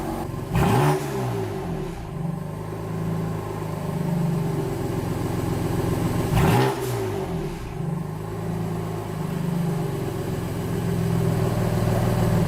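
A BMW F80 M3 engine with VRSF downpipes and a BM3 tune idles with a low rumble, then revs sharply twice, each roar rising and falling back to a throbbing idle, loud and close.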